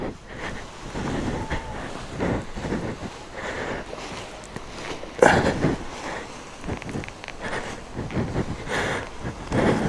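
Steady gusty wind roars and buffets the microphone throughout on a paragliding launch site at Bournemouth, with rumbling swells and one louder gust midway.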